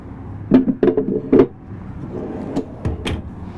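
A pull-out silverware tray in a 2021 Summit Adventure Van slides out with a few quick rolling rumbles and light knocks, followed by a couple of soft clicks and taps.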